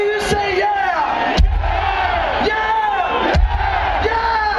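A large concert crowd at a show in Brasília, Brazil roars "yeah" in unison, a loud sustained wall of massed voices with two sharp peaks of shouting and thumping low bursts.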